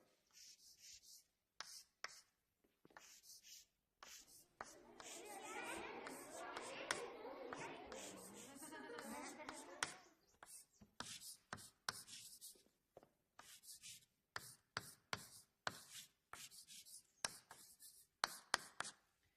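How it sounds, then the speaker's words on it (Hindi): Quick, scratchy pen strokes on paper, mostly short separate marks with a denser continuous run of writing in the middle, quiet and close. "कुछ ऐसा लिखते थे विंची साहब"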